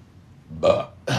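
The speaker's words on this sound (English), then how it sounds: "I didn't mean to burp, guys." A single loud burp lasting about half a second, followed shortly by a second short burst, against a quiet background.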